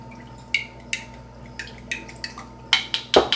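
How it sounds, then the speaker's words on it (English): A spoon stirring butter, vanilla, almond and lemon into milk in a bowl, with light clinks and taps against the side at irregular intervals, close up and fairly quiet, ending in a few quicker, louder knocks. "I'm going to put those in here in the milk, and I'm going to give that a little stir."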